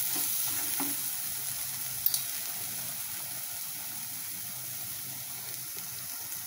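Spices for a chickpea curry sauté gently in oil over low heat, a soft continuous sizzle with a faint utensil tap or two, close but quiet and without speech.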